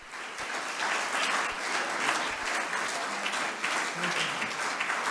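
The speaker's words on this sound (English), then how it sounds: "I'd like to give Dr. Aronson one more big round of applause." An audience applauds at the close of a lecture on climate change and marine life in Antarctica, with steady, dense clapping that holds at an even level throughout.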